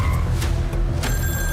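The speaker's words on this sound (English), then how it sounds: "He saw a phone booth in the middle of the desert" A telephone rings in a phone booth standing alone in the desert, its short bright ring cutting in over a steady low rumble, with no voices.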